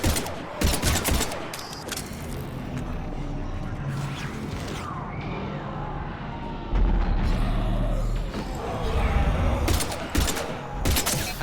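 Bursts of automatic gunfire crackle in a Mass Effect 3 firefight against Husks, dense rapid volleys clustering near the start and again toward the end over a busy, rumbling game soundscape.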